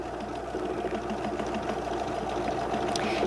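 A Husqvarna Viking sewing machine stitches a decorative program with an S foot, giving a soft, continuous mechanical hum with a fast needle patter, steady and fairly quiet throughout.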